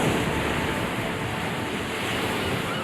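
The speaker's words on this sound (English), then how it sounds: "waves assail the rocks with surging strength." Ocean waves surge and crash against the rocky shoreline at Thunder Hole in Maine, a dense, continuous roar of surf that stays loud and steady throughout with no talking.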